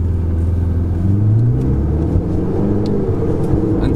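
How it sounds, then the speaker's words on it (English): A Ferrari 488 GTB engine rumbles steadily up close, with a brief dip and a pitch change partway through as it downshifts, low and heavy throughout. "Oh, there's a downshift."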